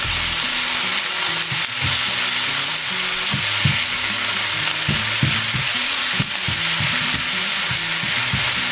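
Oil spatters and sizzles steadily in a frying pan with pulutan cooking, a dense continuous crackle with a lower clatter of stirring or utensil knocks throughout, no talking.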